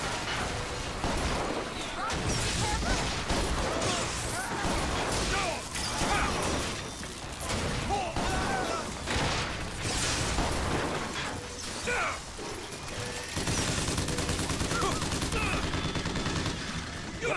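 Rockets and heavy gunfire in the BioShock Infinite shooter, with sustained rapid bursts, crashing explosions and mechanical clatter filling the whole stretch, dense and loud throughout, with voices mixed in.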